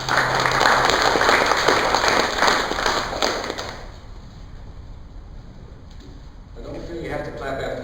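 Audience at a poetry reading claps after a poem, a loud burst of applause that fades out after a few seconds into room quiet with faint noises.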